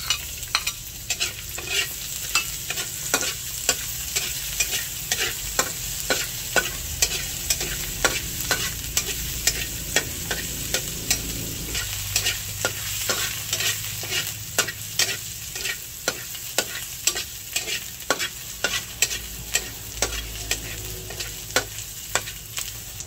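Onion frying in a pan sizzles steadily up close, with frequent sharp clicks and scrapes of a utensil stirring in an irregular rhythm throughout, no voices.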